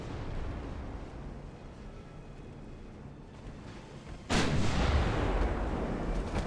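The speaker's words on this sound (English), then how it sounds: "Just start shooting those main guns at it." Battleship main guns fire in the naval strategy game Ultimate Admiral: Dreadnoughts, a low rumbling barrage that jumps into one loud, heavy boom partway through and rolls on afterward, with no voices.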